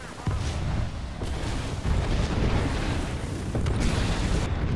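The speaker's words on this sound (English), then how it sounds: "That fucking barrage is so overpowered." Artillery barrage explosions in the video game Apex Legends, a dense run of heavy booms and blasts landing close and loud across the whole stretch, with rumbling impacts overlapping.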